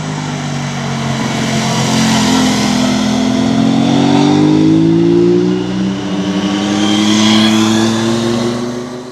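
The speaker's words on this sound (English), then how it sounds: "This is probably the best sounding parallel twin that you can actually go out and buy." An Aprilia RS 660 parallel twin motorcycle engine revs hard and close, its loud, rasping note climbing and then easing back before rising again.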